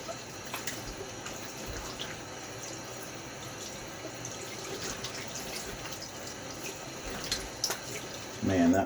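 Tap water running steadily into a sink for rinsing after a shave, sounding as a constant close splashing hiss with a few drips and clinks, getting louder near the end.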